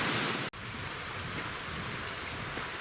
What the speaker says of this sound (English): we get a beautiful little mini waterfall to look at while we do it